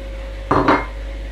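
Chopped potatoes and green beans drop into a pot of simmering beef ciorba, giving two quick, close clunks in quick succession over a quiet, steady kitchen hum.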